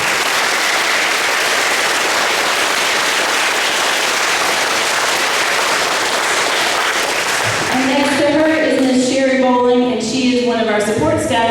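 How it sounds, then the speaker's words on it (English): An audience at a fifth-grade graduation ceremony claps in a sustained, crowded burst, and the applause gives way toward the end to a voice speaking over the fading clapping. "Let's give her a round of applause."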